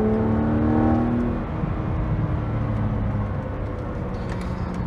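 Six-cylinder engine of a BMW Z4 Coupe E86 3.0si droning steadily from inside the car, a smooth sustained tone that swells then settles at a constant pitch, loud and continuous with no talk.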